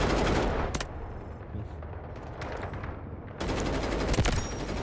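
Gun turret in the Delta Force video game firing rapid automatic bursts, loud and close, with a pause midway and then heavy sustained fire resuming.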